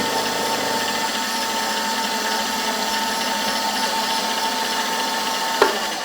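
A 3mm carbide end mill cuts into a hardened cobalt HSS tap, working very slowly. It makes a steady, close grinding whine with a sustained high tone, ending in one sharp tick near the end.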